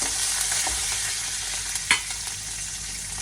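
Curry leaves, green chilli and cumin tempering in hot oil give a steady, close frying sizzle throughout, with a brief sharp crackle burst near the middle and no talk.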